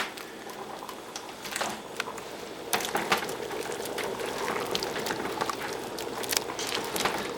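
Cherry plums boiling in a pot of water for jam, a close, continuous bubbling and popping that grows livelier partway through.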